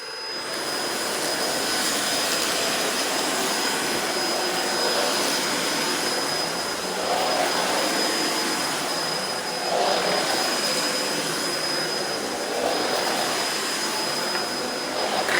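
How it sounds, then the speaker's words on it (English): A Hoover ONEPWR Emerge cordless vacuum runs on a tile floor with a steady, loud motor whine and airy suction roar. The even hiss holds for the whole stretch, with slight swells, and no one speaks. "This vacuum is not bad on tile floor, but you have to make sure you have to use the lower setting"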